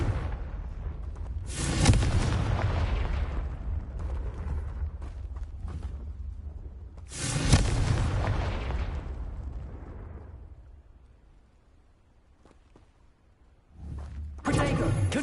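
Confringo explosive spell blasts in the Hogwarts Legacy video game, three loud booming explosions each trailing off into rumbling debris, spaced several seconds apart with quieter game sounds between.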